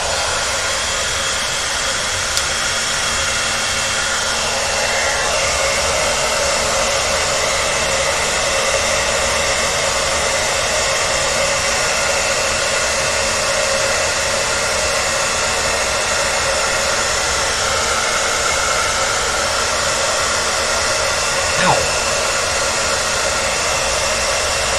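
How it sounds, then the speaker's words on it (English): A hair dryer blows on paint continuously at close range, a loud steady whirring hiss that stays even for the whole stretch. "I am going to use the hair dryer on here so I can get this paint going."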